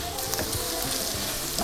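Grated carrot, onion and garlic fry in a pan with a steady, close, dense sizzle that runs throughout, broken by faint stirring ticks and no voices.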